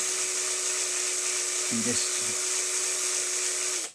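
A small drill whines steadily as it bores into a pin on a Dinky Ford Anglia 155 die-cast model car, with a thin sustained high tone throughout and a brief spoken word near the middle.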